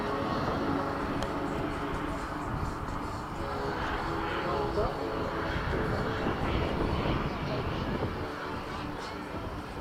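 A model jet aircraft takes off at an airshow, a steady, loud engine roar holding for the whole stretch with a faint voice underneath, spooling up and accelerating.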